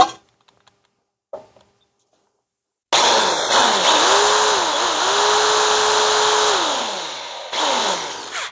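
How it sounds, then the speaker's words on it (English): A power drill bores a pilot hole for a 1957 Chevy bumper guard, starting after a quiet pause with a loud, steady whir that rises and falls in pitch as the motor loads, then cuts off before a brief second burst. "so we've got our pilot hole drilled"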